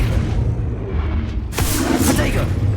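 An Arresto Momentum spell cast in Hogwarts Legacy, a rumbling low magical boom with a sharp bright whooshing surge partway through, loud and close amid game combat effects.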